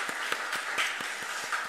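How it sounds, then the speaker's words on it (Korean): A church congregation at an early-morning special prayer service claps briefly, a few scattered hand claps under a steady room hum lasting under two seconds. "우리 격려의 박수 한번 좀 치도록 하겠습니다."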